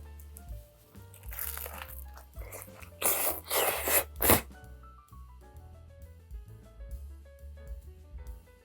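Toasted sourdough topped with beer-braised sausage is bitten into, giving a few loud crunchy bites close up over faint background music.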